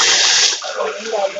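Water is poured from a glass onto 200 grams of sugar in a kadhai, a loud, close gushing splash that is strongest at first and then eases into softer sloshing.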